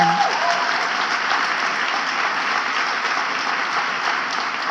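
An audience at a speech breaks into sustained, even applause, a dense crowd of hands clapping continuously and fairly loudly without pause.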